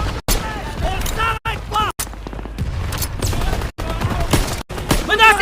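Rapid machine-gun fire from the World War II shooter Call of Duty WWII crackles in dense, continuous bursts, with loud shouted voices over the battle noise.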